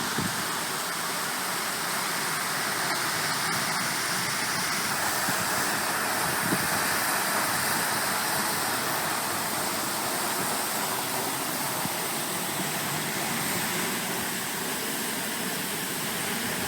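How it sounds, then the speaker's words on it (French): A waterfall cascades through the heart of the village of Salles-la-Source in rain, a loud, steady broadband roar with no voices. "la chute d'eau qui tombe en cascade au cœur du village"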